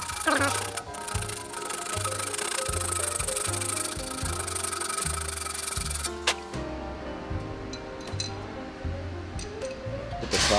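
A small sheet of 80-grit sandpaper rubbed by hand on a chamfered edge during an LED licence plate frame install, making close, rhythmic back-and-forth rasping strokes, with brief clinks and quieter handling toward the end.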